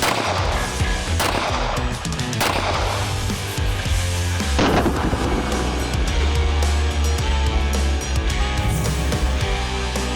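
A handgun is fired one-handed at a shooting range from about ten feet, with several sharp, loud shots standing out over a dense, steady roar of background noise.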